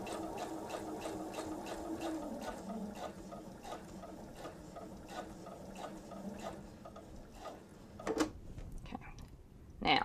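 A home sewing machine stitches along fabric for a two-bottle wine tote, its needle ticking in a steady, fast rhythm at close range, with a couple of louder clunks toward the end and soft speech underneath.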